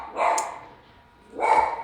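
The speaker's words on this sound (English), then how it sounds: "Sorry for my dog." A dog barks indoors in two separate loud bursts with a short quiet gap between them, close to the listener, with no talking.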